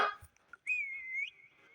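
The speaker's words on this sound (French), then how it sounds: "donc là j'ai sifflé" A referee's whistle is blown to mark one minute left in a game, a short sharp blip followed by a sustained shrill tone of about a second, clear and close with no talking.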